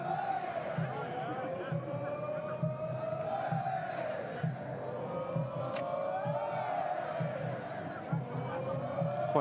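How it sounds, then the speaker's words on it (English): Football crowd at Bishan stadium during a Singapore Premier League match between Lion City Sailors and Albirex Niigata, chanting olés in a steady, sustained roar with rhythmic low drumbeats, while a commentator talks over it. "Quite clearly here the Olays coming from the crowd now"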